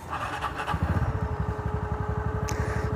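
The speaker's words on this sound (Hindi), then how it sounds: "एक बार मैं आपको गाड़ी चालू करके दिखा देता हूँ।" A TVS motorcycle, recently fitted with a new fuel pump, starts and settles into a loud, close idle with an even, rapid putter of engine pulses.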